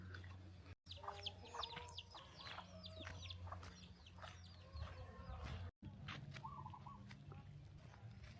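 Chickens cluck and squawk repeatedly at close range over a low background hum, with a rooster-like call standing out among the flock.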